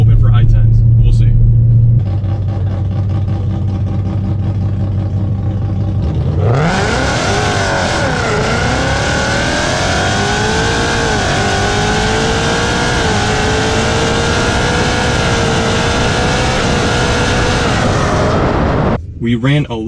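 A supercharged Whipple S650 Mustang idles with a rumble, then launches down the drag strip, the engine screaming loudly as it climbs through gears and holds a strong roar before abruptly cutting off.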